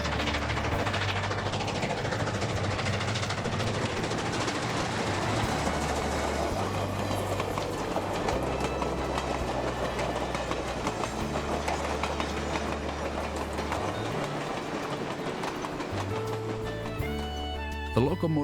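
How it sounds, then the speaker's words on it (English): A train pulled by a steam or diesel locomotive rolls along the rails to the Grand Canyon with steady rumbling and rhythmic clatter of wheels, continuous and moderately distant, with a voice talking over it. "historic steam engines alternate with diesel locomotives, pulling the trains the 65 miles to the canyon"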